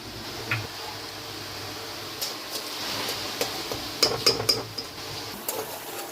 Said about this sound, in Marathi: त्याच्यानंतर हा बारीक चिरलेला कांदा, एक बारीक छोटासा कांदा मी याच्यात ॲड करते।